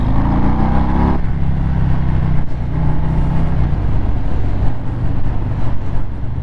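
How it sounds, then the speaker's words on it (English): A Harley-Davidson Breakout (FXBR) engine burbles and revs loudly, its deep throbbing note rising then settling into a steady rumble as it rides on. "Listen to that engine."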